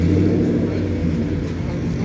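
A classic race car engine runs steadily in the Road Atlanta paddock, a close, loud, even rumble with no pauses.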